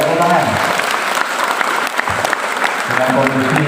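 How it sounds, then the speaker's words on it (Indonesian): Applause from a school audience during a student program session in Indonesia, continuous brisk clapping from many hands, close and loud, lasting a few seconds. "Ya, tepuk tangan."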